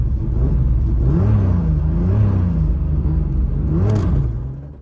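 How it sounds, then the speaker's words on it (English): A BMW E36 engine revs gently and repeatedly, its pitch rising and falling in short, cautious pulls before settling, loud and close with no talk. "Beck is still a little too nervous to rev the car out"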